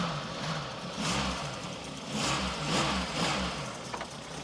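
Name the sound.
VW Golf Mk1 2.0 GTI engine idling, throttle blipped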